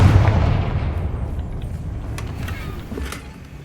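Confringo explosion spell cast in Hogwarts Legacy on hard mode, a heavy boom that rolls into a fading rumble, with a few faint crackles trailing off.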